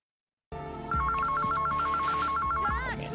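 A telephone trills in a steady warbling ring in a scene from Van Damme's film Double Team, clear and fairly loud over a low, busy soundtrack bed.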